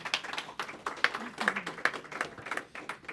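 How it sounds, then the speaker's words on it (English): Sparse applause from a small audience at a roundtable event for a speaker, individual claps at an uneven rhythm, fairly quiet and distant, lasting a few seconds. "I would like you to give an applause as well for Alexandra."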